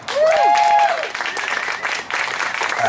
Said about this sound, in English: Give a big round of applause to your Sacramento Art Revolution.